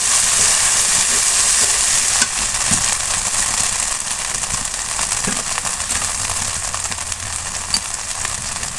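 Chicken biryani ingredients frying in mustard oil, giving a steady, close, loud sizzle with crackling spits throughout and no voices.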